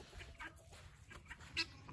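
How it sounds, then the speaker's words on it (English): Chickens and guinea fowl roaming outdoors, faint scattered clucks and chirps over a low rumbling background, with one sharper squawk near the end. "Chickens are out here and running around, guineas."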